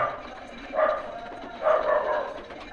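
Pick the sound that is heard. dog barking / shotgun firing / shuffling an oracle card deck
dog barking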